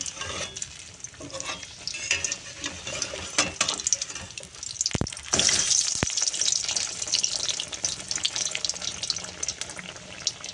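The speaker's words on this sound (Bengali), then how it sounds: "দেখো আমি ব্যাটারটা আর একটু মোটা করে নিয়েছি একদম পাতলা হয়ে গেছিলো দিয়ে ওই যে আবার আমি কড়াইতে দিয়ে দিয়েছি" Battered eggplant fritters dropped into hot oil in a wok, a bubbling sizzle with scraping stirs and a couple of sharp knocks midway, the frying swelling louder in the second half, no talk.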